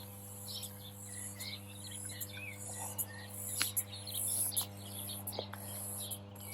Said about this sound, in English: I can hear the cicadas.